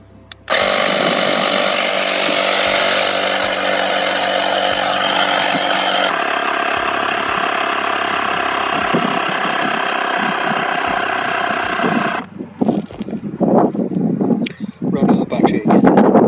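Ellenge portable cordless air compressor pump inflating car tyres, a loud steady motor drone with constant pumping rhythm that runs for about twelve seconds, then cuts out, followed by handling noises and a nearby voice.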